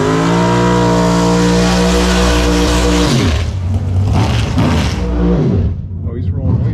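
Electric car in dragster mode on a quarter-mile drag strip at 3% battery, a loud steady whine with harmonic tones that sweeps and drops, then rising engine roar and race-car noise with voices under it.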